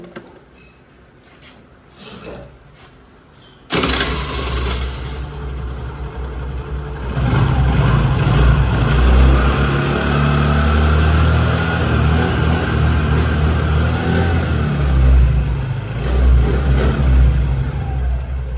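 A TVS Wego scooter with a battery charging fault starts up after a few faint clicks, then idles and runs with a steady, loud close-up engine drone that rises partway through.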